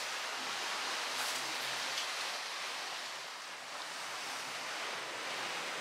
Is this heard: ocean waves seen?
yes